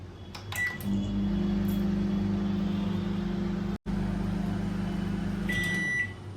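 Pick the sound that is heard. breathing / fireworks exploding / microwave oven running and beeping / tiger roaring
microwave oven running and beeping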